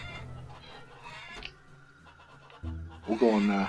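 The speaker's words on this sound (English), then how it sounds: "So I got some chooks." Chickens in the Farmer's Dynasty farming game cluck and squawk around a hen house, with a louder burst of clucking near the end, while someone talks over them throughout.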